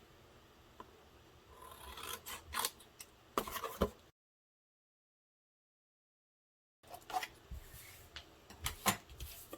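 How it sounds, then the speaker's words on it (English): Scissors snipping through chipboard along a pencil line during a papercraft project, several short crisp cuts and rasping slides before a gap of silence, then more close cutting and rustling. "And then I just take my scissors and I just cut that pencil line off."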